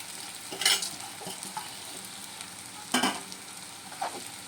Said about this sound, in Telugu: సో ఇప్పుడు కడిగి పెట్టుకున్న అటుకులు ఉన్నాయి కదా, అది వేసేస్తున్నాను.